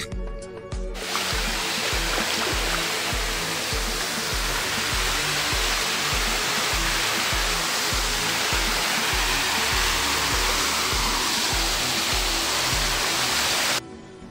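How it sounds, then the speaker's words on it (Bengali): Khaiyachhara waterfall in Mirsarai roars as a steady, dense rush of falling water, loud and unbroken, with a faint rhythmic low thumping beneath it. "এই সেই ঝর্ণা"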